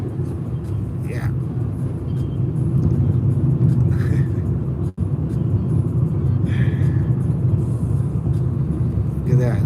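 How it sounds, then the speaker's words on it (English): A gray car passes by on a road, a steady loud engine and tire rumble continuing throughout with a brief dropout near the middle, heard without speech. "There's another gray car over here passing now again to the side."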